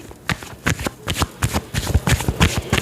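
Tarot cards are shuffled by hand, a rapid run of crisp riffling slaps and flicks in quick irregular bursts, close and fairly quiet, with no talk.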